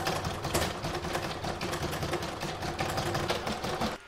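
Sewing machine quilting a crazy patchwork stocking, a continuous rapid mechanical chatter of stitching at a steady pace, close and even throughout, ending with a slight drop.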